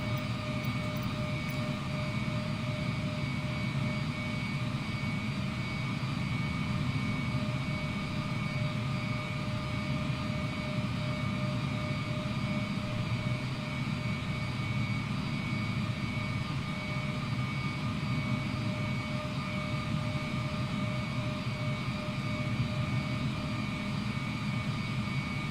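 Aircraft engines in Microsoft Flight Simulator hold a steady, continuous drone while taxiing, with a broad low rumble under high sustained whine tones, loud and unchanging throughout.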